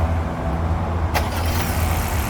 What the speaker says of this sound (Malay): kita cuba start enjin kereta ni